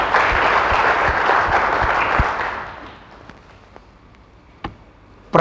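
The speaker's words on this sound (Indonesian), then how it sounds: "Berikan tepuk tangan buat Tuhan." A church congregation applauds in a loud, dense burst of clapping that fades after about three seconds, leaving a few scattered claps and taps.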